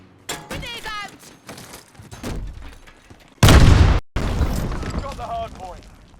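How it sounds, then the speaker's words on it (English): A grenade goes off in Modern Warfare multiplayer: one loud, short blast in the middle, with game noise and voices talking before and after it. "Grenade out!"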